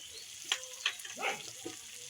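Potato and cauliflower chop filling sautés with ginger, green chilli, chilli powder and sugar in a pan, giving a soft, steady sizzle broken by a few brief scraping stirs of the spatula, close and fairly quiet with no talking.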